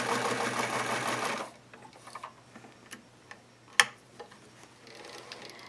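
A Singer 239 sewing machine stitches a seam in a loud, fast, even run of mechanical chatter for about a second and a half, then stops, leaving faint handling clicks and one sharp knock.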